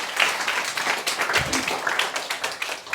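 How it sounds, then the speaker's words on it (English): Audience applause at a startup pitch evening in London, steady dense clapping from a moderate crowd, close and continuous for the full few seconds. "a big round of applause"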